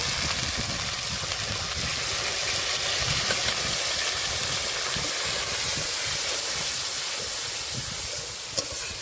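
Water poured into ginger, cumin and dried red chilli paste in a hot pan for a vegetarian mouri potol dish gives a steady, loud, continuous sizzling hiss throughout.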